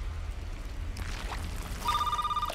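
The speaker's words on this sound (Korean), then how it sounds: "자택으로 돌아온 남성에게 벨소리가 들립니다" A phone rings electronically, with a repeating high tonal pattern that starts late over low background rumble and faint clatter.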